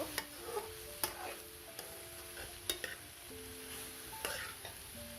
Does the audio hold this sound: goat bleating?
no